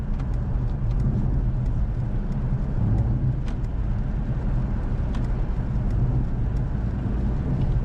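A 2024 Mercedes-AMG C63 S with a 2-litre hybrid powertrain cruising in electric mode, giving a steady, even cabin hum of road and tyre noise with no engine note, constant throughout.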